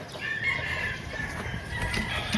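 Chickens cluck in a yard where birds are being caught, a low steady murmur of fowl with scattered soft calls and a faint higher cry, fairly even in level throughout.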